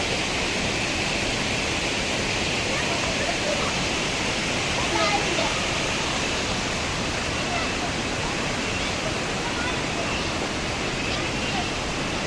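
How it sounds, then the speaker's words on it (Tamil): Meenmutty waterfall in a Kerala forest pours down from the hilltop, making a loud, steady, unbroken roar of rushing water that fills all twelve seconds. "அதுதான் மலை உச்சியிலேருந்து தண்ணி ஊற்றுது"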